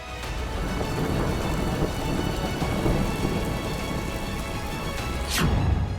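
Heavy monsoon rain in Gujarat pours steadily while low thunder rumbles throughout, swelling louder toward the end, with a sharp crack near the close.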